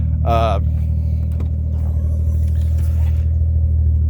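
A car engine rumbles loudly and steadily during a walk-around of a restored car with new calipers, rotors and brakes, a deep continuous drone with a brief higher tonal burst near the start.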